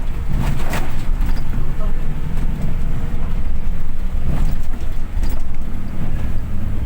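Dense road traffic on a Manila-area route from Balintawak toward Aurora Boulevard, a steady wash of engines and tyre rumble with passing vehicles, with people talking over it.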